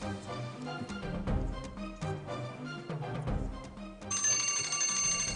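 Bell sounding at time-up during a school quiz competition, repeated bright metallic rings over a busy room, ending in a sustained ringing tone.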